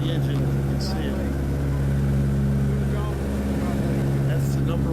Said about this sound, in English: That's the #1 engine, left-hand side engine.